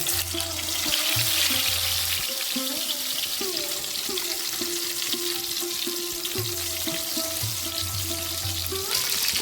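Brinjal slices frying in oil in a pan, producing a continuous hissing sizzle close by, while a steady tonal hum runs underneath.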